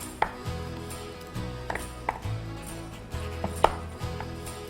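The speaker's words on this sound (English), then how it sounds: "you can cut into chunks just by making big chunky chips" Knife chopping butternut squash into big chunks on a cutting board: a handful of firm, close thuds at an uneven pace, each with a short woody knock, with no talking.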